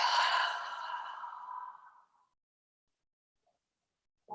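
A person in a yoga class breathes out slowly through the mouth, a soft, airy exhale lasting about two seconds that fades into silence. A faint breath returns at the very end.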